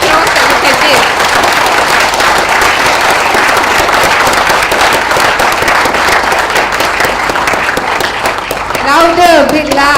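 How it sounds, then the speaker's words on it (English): Loud, dense applause from a forum audience in Asia, a continuous roar of clapping with crowd noise sustained throughout, near and full, with a brief voice at the end. "let us welcome C4 into the fray with an explosive applause"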